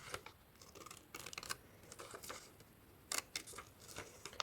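Children's scissors snip through paper along a drawn line in quick, soft cuts, a short run of crisp clicks and rustles, close and fairly quiet.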